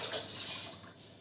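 Water is poured into a cooking pot for coconut-milk rice, a steady splashing flow that is fairly loud at first and then eases off, with no talking.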